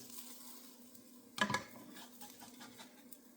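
An omelet fries in a pan with a faint, steady sizzle, broken by one brief clatter of a utensil against the pan midway and a few soft scrapes afterward.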